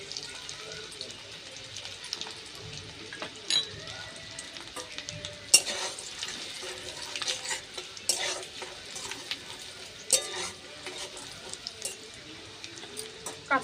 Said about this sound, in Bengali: এই তেলের মধ্যে দিয়ে দেবো আমি রসুন কুচি, আর আদা কুচি